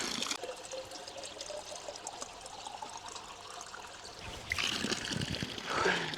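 Fresh spring water from a source in the Kurdish mountains, pouring and trickling in a steady stream up close, growing louder and splashier near the end as it fills or is drunk from.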